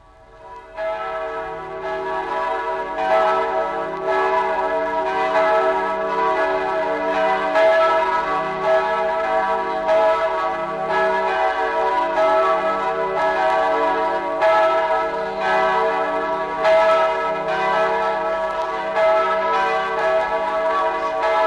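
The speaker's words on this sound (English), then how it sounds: "I have here the sound of bells of the Lutheran Church of the Redeemer in the old city of Jerusalem." Church bells of the Lutheran Church of the Redeemer in the old city of Jerusalem ring steadily and loudly, overlapping peals sustaining a rich, continuous chime throughout.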